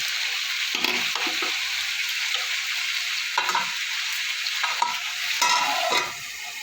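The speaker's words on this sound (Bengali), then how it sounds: "পেঁপে আলুটা ভালো করে লাল লাল করে ভাজতে হবে" Raw papaya and potato pieces frying in a pan for a papaya-potato dalna, with steady sizzling broken by several scraping stirs of a spatula, close and fairly loud, no talking.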